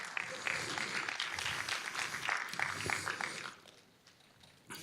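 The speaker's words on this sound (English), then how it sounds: "A warm round of applause" Conference audience applause as two speakers join the stage, a moderate, fairly distant patter of clapping that thins and fades out near the end.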